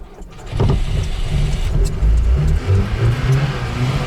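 An old Moskvich car engine starts and revs loudly up close, settling into a rough, throbbing idle with repeated surges of throttle.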